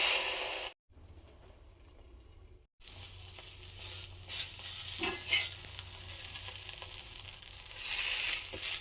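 Eggs fry in a hot pan with a broad, crackling sizzle and stirring scrapes, broken early by a brief near-silent gap before the frying returns, loud and close, with no talking.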